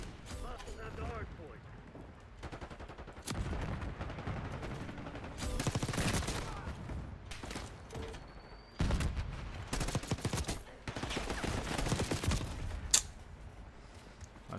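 Gunfire rattles in Call of Duty: Black Ops 6 on the Babylon map during Hardpoint play, coming in repeated bursts of shots that swell loudly around the middle and the end, with a player's voice talking at times over the fighting.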